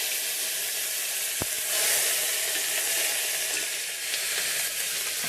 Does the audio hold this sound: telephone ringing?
no